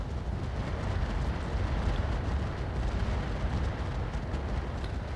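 Mech weapons fire together in the video game RogueTech, a loud, sustained rumbling barrage of blasts and explosions with no gaps.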